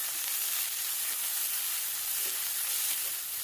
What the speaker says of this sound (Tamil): ஒரு பச்சை மிளகாய், இதெல்லாம் நல்லா வதங்கட்டும்.